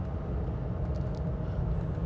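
A 2006 Hummer H2 Limited cruising at around 55 mph, giving a steady low rumble of road and engine noise inside the cabin with no voices.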